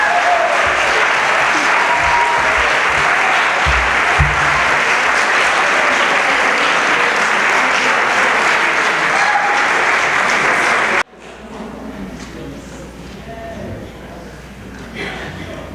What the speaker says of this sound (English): Thank you for clapping for us.